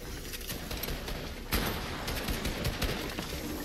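Rapid gunfire in a Fortnite match, dense crackling bursts of shots in quick succession with one sharper, louder report midway, heard fairly faintly through a busy game mix.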